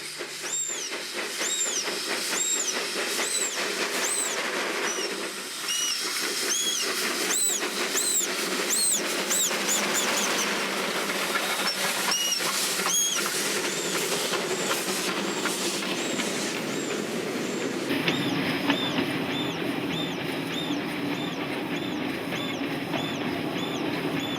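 A Garratt steam locomotive in South Africa loses its grip on vegetation-covered rails, giving a loud, continuous roar of hissing steam with rapid, uneven exhaust beats as the wheels slip. A steady tonal note joins near the end.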